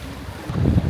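Strong wind buffeting the microphone on an island-hopping boat ride at sea near Masasa Beach in Tingloy, a brief roaring gust that swells louder and rumbles low, with no other sound standing out.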